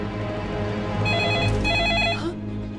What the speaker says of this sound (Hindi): हक्सली का फोन हुआ तो?